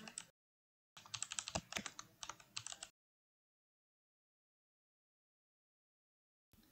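Hex colour code being typed on a computer keyboard: a quick run of crisp key clicks lasting about two seconds, close and clear, with silence on either side.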